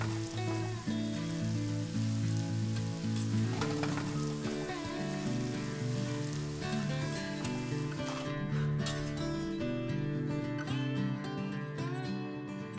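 Food sizzles steadily in a pan at a home cooking demonstration, a continuous fry hiss over a sustained tonal, music-like background for the whole stretch, with no talking.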